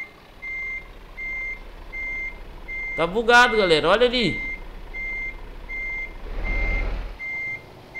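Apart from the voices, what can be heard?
truck reversing beeps while parking, from video game Euro Truck Simulator 2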